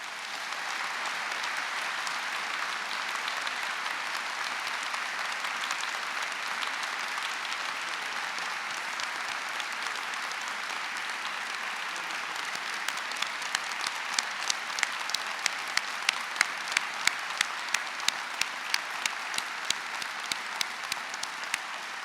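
A staff audience applauds after a university vice-chancellor's address, a long sustained wash of applause from a large crowd that settles into a few distinct, louder rhythmic claps near the end.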